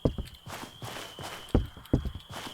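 Footsteps on a new surface material in the video game Nocturnal Visit, a series of close, distinct steps in an uneven walking rhythm, some heavier thuds, with a faint steady tone behind and no talking.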